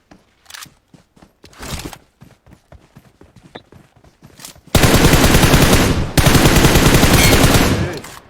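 Sustained automatic AKM rifle fire in the PUBG Mobile video game, two long loud bursts of rapid shots after a stretch of quieter separate shots and footstep-like clicks.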